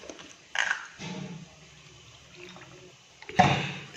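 A person drinks water indoors at home, with brief splashing and pouring bursts at the start and end and a quieter stretch between.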